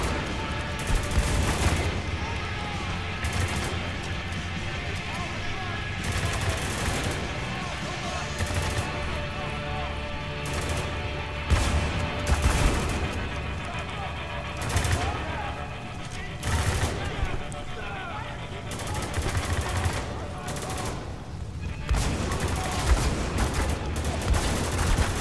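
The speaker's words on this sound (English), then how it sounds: "Shotgun, not my favorite weapon for this." Shotgun blasts boom repeatedly in Spec Ops: The Line combat, heavy irregular shots amid dense battle noise, with someone talking over the action.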